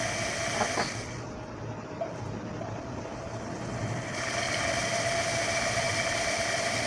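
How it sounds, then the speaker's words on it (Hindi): A rewound washing machine motor runs on a test connection with a capacitor, giving a steady, close-up hum and whir that holds constant throughout, with a slight shift in tone midway. "ये हमारी मोटर चल रही है।"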